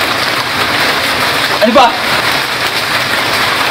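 Steady rain falling outdoors, a continuous broadband hiss that runs under the whole scene while people talk briefly over it.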